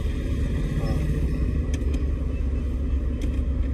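A car idles with a steady low rumble during a driving lesson, right after the ignition is switched on and the starter cranked. The engine hum is continuous and close, and no one talks over it.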